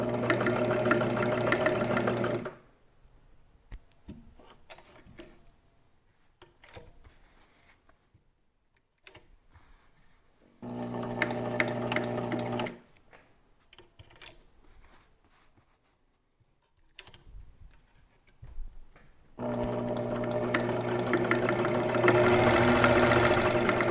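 An Elna T SP 72C sewing machine stitches a zigzag in three separate bursts of close, steady whirring and rapid needle chatter, with quiet pauses between runs.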